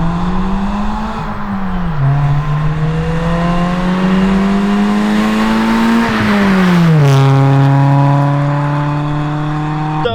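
Honda Civic with a new aftermarket exhaust revs loudly and close up, VTEC engaging as engine pitch climbs, then drops through downshifts and climbs again, a continuous raspy exhaust note with no talk.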